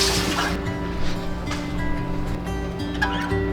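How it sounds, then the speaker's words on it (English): Tap water runs steadily into a kitchen sink during handwashing while baking at home, a continuous broadband splash with faint clinks over a low background hum, no talking. "Okay, I'm gonna wash my hands now."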